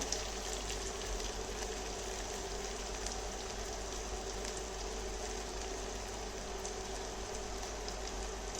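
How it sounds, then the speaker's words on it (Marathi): Chopped onion frying in hot oil with curry leaves, a faint, steady sizzle with no voices over it. "जो कांदा कापून घेतलेला आहे तो घालायचा आहे आणि व्यवस्थित असा कांदा परतून घ्यायचा आहे"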